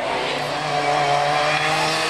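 A BMW E30 race car at the Gurnigel hill climb, its engine holding a steady, moderately distant drone with a sustained tonal whine and no voices over it.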